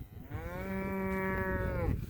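A single long, low cow moo, close and clear, held steadily for almost two seconds against quiet outdoor background.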